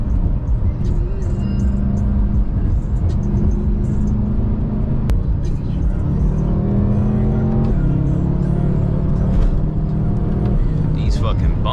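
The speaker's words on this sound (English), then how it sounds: "This ride is so bumpy." A 600 hp BMW M5 drives over bumpy backroads, its engine droning and shifting pitch steadily under road rumble and cabin noise, with a person talking over it throughout.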